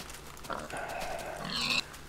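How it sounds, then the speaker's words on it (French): A pig grunting in a farm video game, a couple of short, faint snorting grunts over quiet background. "Allez hop, toi cochon, tu vas finir dans mon ventre."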